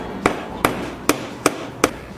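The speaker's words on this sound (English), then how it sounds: "I need to hammer this nail through this board to attach it to this one." A hammer drives a nail into a wooden board as part of building a box: five sharp, evenly spaced knocks, close and clear, with no talking.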